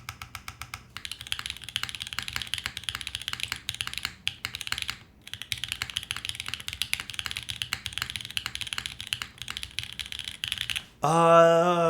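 Typing on a custom Wendy TKL mechanical keyboard gives rapid, steady, close clacking keystrokes, with a brief pause midway and a few heavier key presses.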